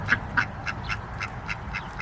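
Ducks on a homestead quack in a quick rhythmic series of about eight calls, close and clear over a low rumbling background.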